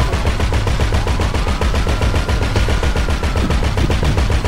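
Rapid automatic gunfire from GTA V Online, sustained and dense with fast regular bursts rattling close and loud throughout, no pauses between volleys.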